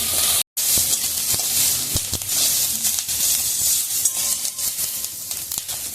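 Capsicum lightly frying in a pan for white sauce pasta, a loud close bright sizzle and hiss running throughout with occasional stirring knocks and a brief dropout near the start.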